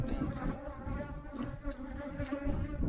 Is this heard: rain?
no